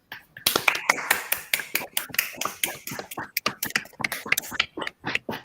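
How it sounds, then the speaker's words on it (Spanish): Sparse audience clapping after a university lecture on psychoanalysis, a scattering of distinct hand claps at an irregular rhythm, fairly close and moderately loud, with no voices over it. "Aplaudimos."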